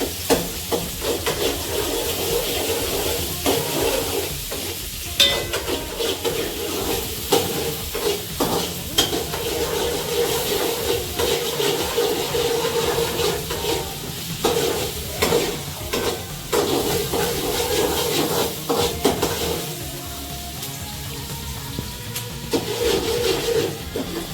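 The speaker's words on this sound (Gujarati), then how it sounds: "ધીમા તાપે થોડી ડુંગળીને સડવા દઈશું." Onions and chilies frying slowly over low heat in a pan, a steady close sizzle with frequent scraping and knocks of a spoon stirring against the pan, no talk.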